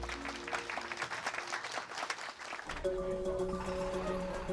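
A group claps in a round of applause for a climate research team, a brief moderate spell of clapping that gives way to a steady tonal hum.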